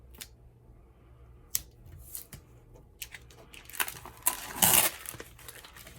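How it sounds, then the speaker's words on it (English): Scissors snip through overlapping parchment paper, giving a few sharp, close cuts and crisp crinkling rustles, sparse at first and denser toward the end, in an otherwise quiet room. "I'm going to trim off the bottom of this overlapping parchment paper"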